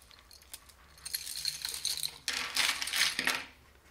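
Plastic Mardi Gras beads rattle and clatter as they are handled, starting faint and growing into a busy, bright jangle with a louder burst near the end, close by with no talking.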